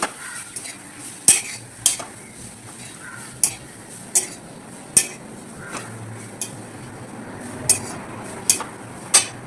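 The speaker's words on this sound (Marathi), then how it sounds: "आता यामध्ये ओल्या नारळाचं केस टाकून परतून घ्यायचं आहे" Grated fresh coconut is sautéed for modak filling, with a faint sizzle under repeated sharp clinks of a spoon tapping and scraping the pan at irregular intervals. No speech.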